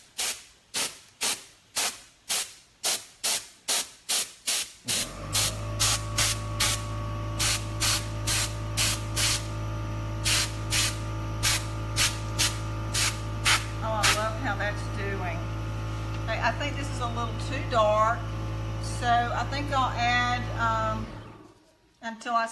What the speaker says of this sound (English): now I'm going to take my air, and I have 20 pounds of pressure on here